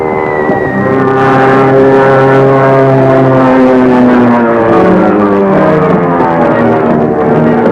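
A steady, loud propeller-engine drone with layered whining harmonics, shifting slightly in pitch as the aircraft flies on continuously.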